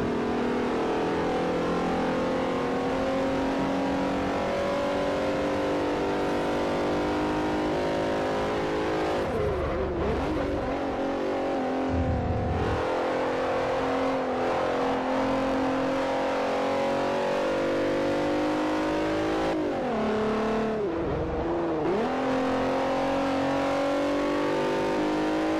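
Alfa Romeo race car engine in Forza Motorsport 4, loud and continuous throughout, with rising revs and gear-change dips around the middle and near the end.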